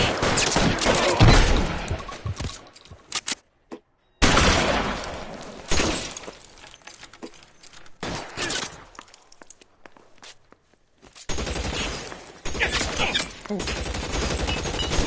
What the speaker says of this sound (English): Automatic weapons.